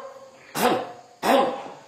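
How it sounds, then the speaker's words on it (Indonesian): Two deep, forceful throat clearings pushed from the belly rather than the throat or chest, each a gruff half-second burst, spaced about 0.7 seconds apart, loud and close. "Dehem-nya bukan dehem dengan tenggorokan. Bukan dehem dengan suara dada. Dehem dengan perut."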